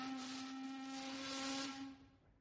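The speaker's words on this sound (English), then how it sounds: "The steamer whistle screeched" A steamboat's steam whistle screeches in one long, steady, shrill blast that holds loud and level for about two seconds before cutting off and fading.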